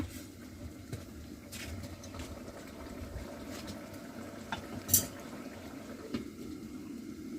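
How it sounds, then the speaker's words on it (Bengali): Fish curry and a broth with fresh drumsticks from the family's own tree simmering in pots in a home kitchen, a soft continuous bubbling with faint pattering and occasional light clinks. "নিজেদের গাছে টাটকা টাটকা সজনে ডাটা দিয়ে ঝোল রান্না করছে"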